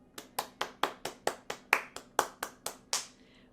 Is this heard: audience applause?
yes